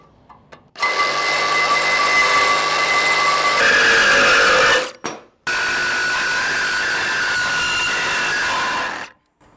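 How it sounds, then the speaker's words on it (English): A Sawzall reciprocating saw cuts through thick steel while a Roadmaster base plate kit is fitted to a 2024 Ford, giving a loud, close, sustained buzzing whine in two long bursts separated by a brief pause. "I just happen to have a Sawzall and I'm going to use."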